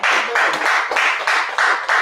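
A church congregation claps in rhythm to acclaim God, a steady series of loud, evenly spaced group claps without talk.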